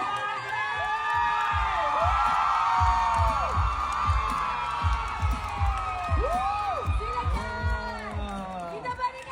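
An audience at a stage event cheers and whoops loudly, excited shouts rising and falling over a continuous crowd roar, with voices talking through it.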